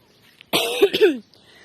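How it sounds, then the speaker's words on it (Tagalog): A single short bout of coughing, two or three rough hacks close to the microphone, surrounded by near silence. "Ubo ako na ubo kasi pagod talaga ako"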